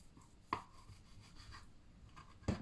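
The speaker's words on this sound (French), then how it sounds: "mon couteau, il coupe très mal" A kitchen knife cuts through a ham roll, two sharp, quiet strokes with faint scraping between them, heard alone without any talk.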